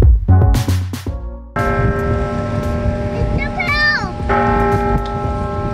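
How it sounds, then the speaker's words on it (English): A large bell like the Liberty Bell rings with a resonant, sustained harmonic tone, outdoors with wind noise and faint background voices. "That's what the Liberty Bell would sound like."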